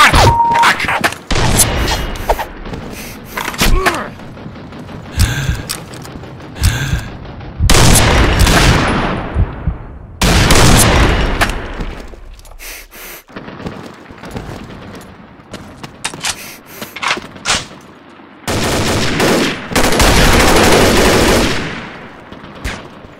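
Rapid automatic-weapon bursts and single shots crackle through an online Combat Arms Classic Elimination Pro round on the Gray Hammer map, loud and near, in repeated volleys separated by short pauses.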